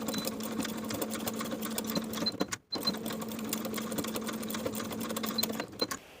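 A sewing machine stitches side waistbands to a front waistband with ties sandwiched between, running in a steady rapid rhythm with one brief stop partway through, close and continuous.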